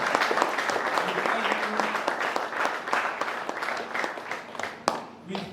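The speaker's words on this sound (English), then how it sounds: "Give yourselves a warm round of applause for being here" Audience applause fills a mosque hall during an evening program, dense sustained clapping from a large crowd with a few sharper claps standing out near the end.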